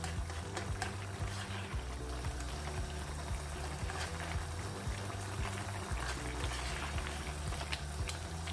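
A pan of minced meat keema with tomato and onion bubbles and simmers steadily as its water boils off, a soft continuous boiling hiss and faint crackles, quiet and close, without talk.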